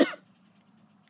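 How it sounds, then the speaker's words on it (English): One short, sharp cough close to the microphone outdoors, a single burst that cuts off quickly into quiet with a faint background hum. "I'm about to cough."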